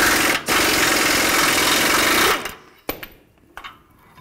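An impact gun with a 24mm socket breaks loose a rear brake bracket bolt on a 2017-or-later Ford F-350 dually, giving a loud sustained rattling hammer that cuts off after about two seconds, followed by a few faint clanks.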